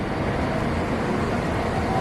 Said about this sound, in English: a full bus terminal